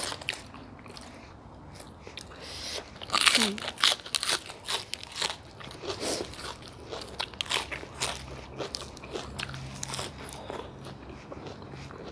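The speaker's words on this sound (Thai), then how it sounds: "สุดยอด ผักกรอบๆ" Crunchy bites of crisp vegetables eaten with noodle soup topped with fried garlic, chili oil and crispy pork rinds, a series of close, sharp crunches and chewing, with a voice talking in between.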